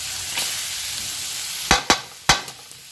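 Garlic and square grocery ham frying in a pan give a soft continuous sizzle, broken by several sharp scrapes and clacks from stirring, with no talk.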